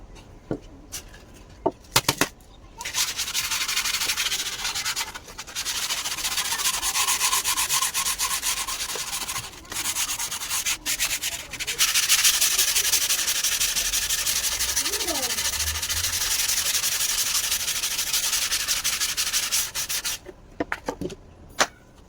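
An old wooden cricket bat's back is sanded with 80-grit sandpaper: long, steady scratchy rubbing strokes run for most of the stretch with short pauses, and faint birdsong sits in the background.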